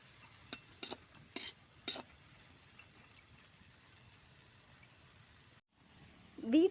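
Vegetables and masala sautéing in a pan, a faint quiet sizzle with a few sharp spoon scrapes and taps in the first couple of seconds, then a low steady hiss.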